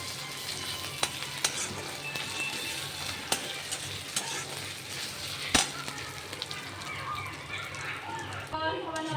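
Ground ginger, garlic and whole spices frying in a home kitchen pan, a continuous close sizzle with scattered sharp pops and spatula scrapes running throughout.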